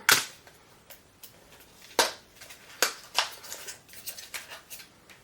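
Sharp plastic snips and clicks from a hair clip prying open the packaging of Thirst Seeker setting spray, a quick cluster of crisp transient cracks close by, then a run of smaller scratchy ticks.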